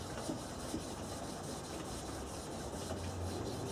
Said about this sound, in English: We're just using a cloth to rub this in.